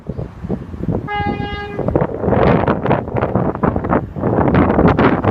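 Train 107 Skyfall, a King's Cross to Edinburgh service, sounds a short two-tone horn before rushing through Bathley Lane level crossing, the horn giving way to loud, close, gusty rumbling of passing carriages.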